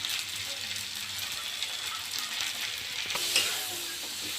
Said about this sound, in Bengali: কাঁকড়াগুলো ভাজা ভাজা হয়ে গেছে